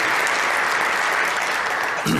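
Brief, loud burst of audience clapping for President Ramaphosa at the Bela Bill signing ceremony, dense and continuous, with a voice starting to speak just as it ends.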